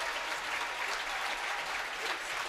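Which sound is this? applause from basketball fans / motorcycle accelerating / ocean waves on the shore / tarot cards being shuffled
applause from basketball fans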